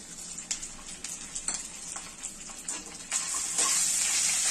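Whole spices and ginger paste fry in a pan for vegetarian khichdi, a steady close sizzle with scraping stirs and brighter crackling bursts that swell louder near the end.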